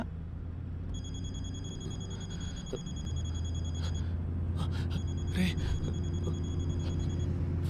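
A telephone rings in a Telugu film scene, two bursts of electronic ringing set against a low steady hum, with people talking over and between the rings.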